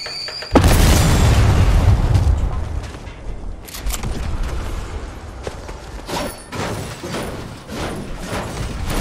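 A tank blows up in a Fortnite ranked solo battle royale match: one loud, sudden boom followed by a long rumbling tail, then several scattered sharper pops and bursts, with no talking.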